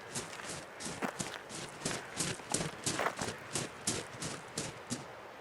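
Horse hooves clip-clop in a steady walking rhythm on a hard street at night outside a graveyard in Southwark, a series of crisp, moderately close knocks with no voices.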